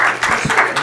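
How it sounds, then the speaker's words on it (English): Studio audience applauding guest police constables on a policing podcast: a dense, steady wash of many hands clapping at close range, filling the short moment without any talk over it. "let's give them a round of applause"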